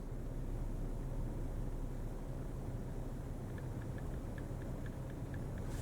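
A Ryobi 2300 inverter generator with remote electric start runs at a steady idle, a low, constant engine hum with faint rhythmic ticking near the end, no voices present.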